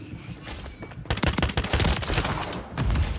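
Video game gunfire, a dense rapid fusillade of overlapping shots and bursts that grows louder after the first second and keeps going to the end.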